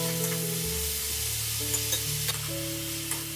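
Seasoned radish is stir-fried with green onion in a pan, giving a continuous sizzle with a few light scraping stirs, close and alone.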